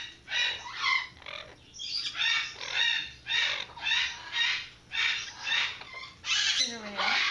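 A pet bird gives a string of raspy, squawking calls in regular bursts about every half second to a second, close and loud, with a low steady hum beneath.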